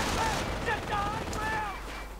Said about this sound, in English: Schwer's MG42 just tearing through the riflemen, ending lives